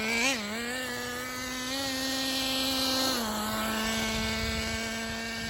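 The 3.3 nitro engine of a Traxxas Nitro 4-tec RC car runs steadily nearby with a buzzing, high-pitched whine. It blips briefly at the start, then holds a near-constant idle-to-mid rev for several seconds.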